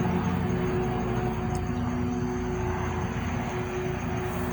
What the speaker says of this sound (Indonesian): Sorry, ada helikopter lewat, maklum di outdoor soalnya